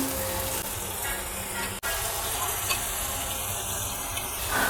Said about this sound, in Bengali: গ্যাসের ফ্লেমটা একদম কম করে আমি এখানে দিয়ে দিচ্ছি টক দই, ফেটিয়ে রাখা টক দই